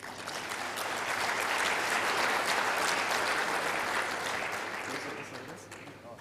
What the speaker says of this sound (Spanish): Invitamos a Dragomir y lo recibimos con un fuerte aplauso,